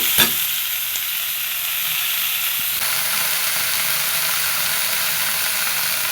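Gourd leaves frying in a hot pan with oil, a loud, continuous sizzle and hiss after an initial burst, with faint stirring scrapes underneath and no talking.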